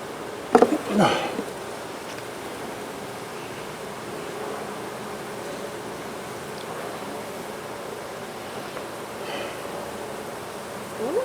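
Bees hum in a steady, continuous drone around a beehive frame, close and fairly loud, with a few brief handling knocks near the start.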